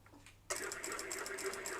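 A sewing machine running steadily on long stitches, starting abruptly after a quiet moment and then whirring close and continuously with a fast ticking rhythm.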